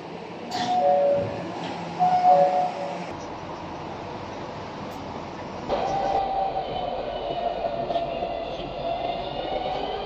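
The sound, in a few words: tram approaching a station in Lusail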